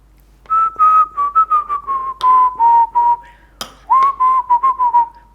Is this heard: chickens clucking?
no